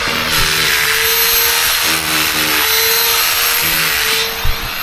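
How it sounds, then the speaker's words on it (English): A loud, steady mechanical roar of a rotary hammer drills continuously with a grinding hum, close and unbroken, and no voices. "We're using a roto hammer now instead of the pickaxe"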